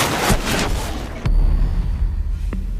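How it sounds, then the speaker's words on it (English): A Vulcan shield explosion in Rainbow Six Siege, loud booming blasts with a sharp crack midway and rumbling noise after, ending with a small metallic ping. "A well-timed Vulcan explosion can be the difference between lighting up the scoreboard or going"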